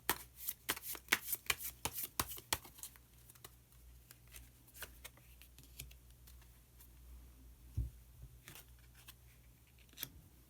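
Tarot cards being shuffled and then drawn, a quick rapid run of crisp riffling snaps followed by sparser soft slides and taps, quiet and close, with no talking.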